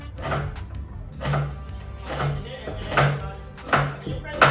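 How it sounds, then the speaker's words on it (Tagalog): A labanos radish peeled thinly by hand while preparing sinigang, heard as close, evenly spaced scraping strokes about once a second over a low background hum. "binabalatan lang natin yung labano. So, minipis lang."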